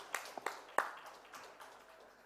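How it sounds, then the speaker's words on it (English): Summit audience applause for a consultant surgeon called to the stage: a few sharp, scattered claps at the start that quickly thin out and fade into quiet room tone. "Ladies and gentlemen, huge round of applause for Dr. Ravinder Reddy."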